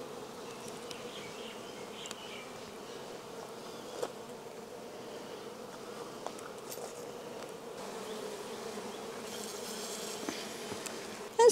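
Honeybees on a frame lifted from a hive of pupating brood, their steady massed buzzing droning close and continuous throughout, with a few brief louder passes near the mic.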